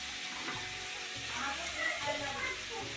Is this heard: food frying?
yes